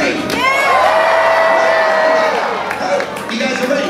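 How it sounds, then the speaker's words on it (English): An audience at a SeaWorld show cheers, whoops and shouts loudly together, children's voices among them, with some clapping in a sustained roar that eases slightly toward the end. "everyone needs to cheer as loud as you can"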